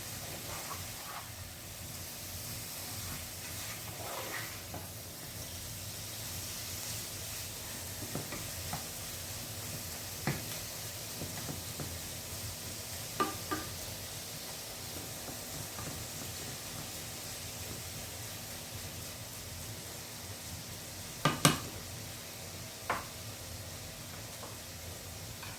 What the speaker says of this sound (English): I'm going to go ahead and get the shrimp sauteed up